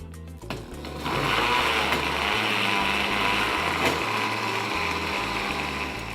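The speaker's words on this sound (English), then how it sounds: "Let's cover our blender, put it on low." A blender runs on low speed, churning homemade sofrito of vegetables with a little olive oil and water, a steady loud whirring drone that starts after a brief rattle and holds evenly throughout.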